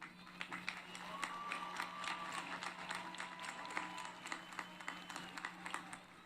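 Audience applause for senior musicians at a Patterson High School graduation ceremony, a steady, fairly faint patter of many hands clapping with a low hum underneath.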